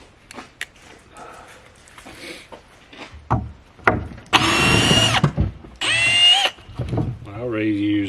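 A power drill whines in two strong bursts as it backs screws out of a wooden truck dog box, broken by clicks and handling knocks, with someone talking in between.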